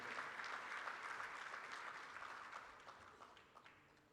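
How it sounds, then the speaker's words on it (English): Audience applause for a head of state at the Africa Investment Forum opening ceremony, a steady wash of clapping from a large crowd that holds for several seconds and then gradually thins and fades. "Please give him a warm round of applause"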